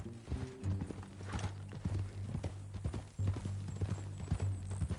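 Steady clip-clopping of horse hooves at a walk, close and moderately loud, over a low droning hum, with faint creaks of gear.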